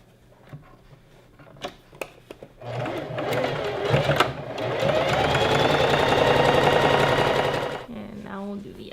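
A sewing machine stitches a gathered maxi dress seam, starting after a few clicks and taps, then running in a steady, close whir for several seconds before stopping, with a brief voice at the end.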